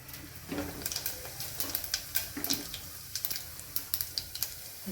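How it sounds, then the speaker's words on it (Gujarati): Cumin seeds spluttering in hot oil in a pan, a steady sizzle dotted with quick, irregular crackling pops, close and moderately loud, no talking. "જીરું ફૂટી જાય ત્યારબાદ આપણે એડ કરવાની છે હિંગ"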